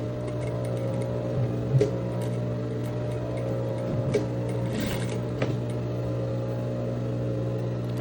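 A sewing machine runs steadily while stitching the crotch seam of a linen trouser pattern, a continuous close mechanical hum with a few faint clicks, and no voices.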